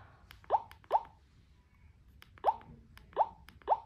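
A Nokia 2660 Flip phone gives out a string of short, bright system tones, five quick blips spaced irregularly and heard close and fairly soft against a quiet room.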